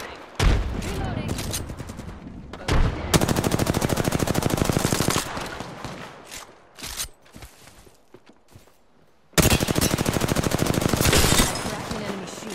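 Bursts of rapid automatic weapon fire in the battle-royale shooter Apex Legends, on the Olympus map, loud and close, with a lull in the middle before another sustained volley; faint voices come through in places.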